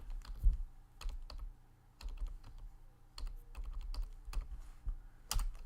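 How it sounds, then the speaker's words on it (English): Sparse keystrokes on a computer keyboard, a few distinct clicks every second or so with soft thuds between, close and fairly quiet. "I'll type this in here."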